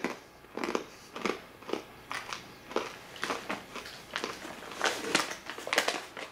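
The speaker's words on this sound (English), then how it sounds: "Oh, that is really crunchy." Repeated loud crunches from close-up biting and chewing of something crisp, arriving in an irregular rhythm.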